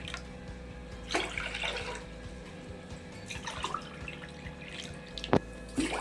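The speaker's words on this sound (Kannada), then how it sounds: "ಇದರಲ್ಲಿ ನಾನು ನಾಲ್ಕು ಗ್ಲಾಸ್ ನೀರನ್ನ ಹಾಕ್ತಾ ಇರ್ತೀನಿ" Water for ragi mudde pours into a pot in a few short splashing bursts over a low steady hum, close and moderately quiet.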